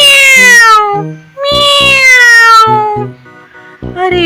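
A cartoon cat meows loudly in a kids' animated story, three drawn-out, close, clear meows in sequence with short gaps between them.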